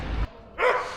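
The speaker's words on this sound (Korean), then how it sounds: "마침 원형 경기장 앞에 용맹한 강아지가 주인과 산책을 하고 있습니다." A small dog barks outdoors in front of a Roman amphitheatre while out on a walk with its owner, giving one short sharp yap after a moment of rumbling street noise.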